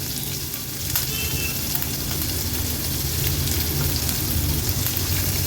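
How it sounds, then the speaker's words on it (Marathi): Loud, steady sizzling and crackling of onion, garlic and finely chopped ginger frying in hot oil, close up, with occasional stirring sounds and no talking. "आता हे आपण फोडणीला घालणार आहोत"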